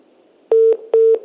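A telephone line's disconnect tone after a call drops: two short, loud, evenly spaced beeps at one steady pitch, with quiet line noise between them and no voices.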